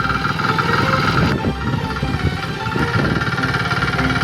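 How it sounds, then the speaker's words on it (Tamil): A power weeder engine runs at steady idle while the machine is used to cut furrows in a field, giving a loud, close, continuous chugging rumble with no talk. "வாங்க இப்ப மெஷின் ஸ்டார்ட் பண்ணி பார் ஓட்டலாம்."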